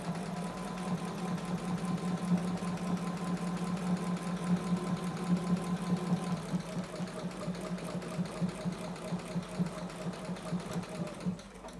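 A sewing machine runs steadily, stitching slowly along a heart border template, its needle giving a fast regular mechanical chatter that holds for most of the clip and then breaks into slower, uneven pulses near the end.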